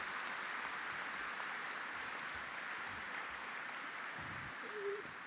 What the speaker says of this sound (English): Give him a round of applause for that here tonight.